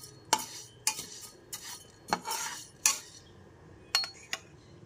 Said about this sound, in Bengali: মুগ ডালটা হালকা লাল করে ভেজে নিতে হবে।